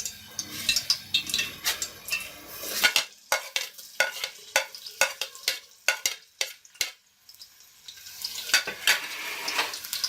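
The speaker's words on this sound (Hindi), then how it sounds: "अब हम इसके अंदर प्याज डालेंगे।" Chopped onions going into hot oil or ghee for balti gosht, loud sizzling frying with a flurry of spoon scrapes and clanks against the pot, then a fading hiss that swells again.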